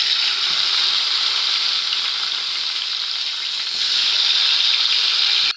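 Eggplant pieces rubbed with salt and turmeric sizzle in hot oil in a wok, a loud, steady close frying hiss that swells briefly partway through, with no voices.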